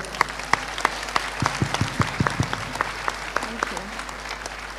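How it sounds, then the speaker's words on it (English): Audience applause at a Game of Thrones panel during East European Comic Con 2016, a lively round of many hands clapping with crisp distinct claps near the front, steady throughout and with some faint voices behind. "give it a round of applause"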